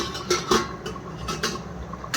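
Metallic clanks and clatters as a lid goes onto a pot of greens on a gas stove, several close knocks and scrapes with a soft background hum.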